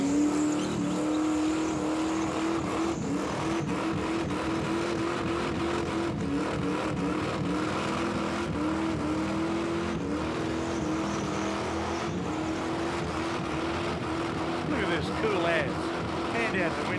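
A car does a burnout at the Summernats burnout eliminations. A sustained engine roar holds a steady pitch with tire noise, heard at a distance under crowd and commentary voices.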